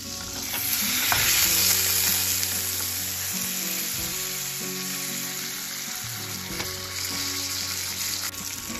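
Butter and garlic sizzle steadily in a frying pan while being stirred, a continuous loud crackling frying hiss with soft scraping of the spoon throughout, alongside a pork chop dish.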